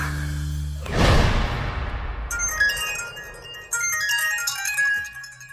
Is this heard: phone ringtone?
yes